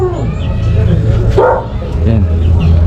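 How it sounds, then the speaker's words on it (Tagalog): A dog barks in short bursts close by while a person talks over it. "ingay pa ng aso."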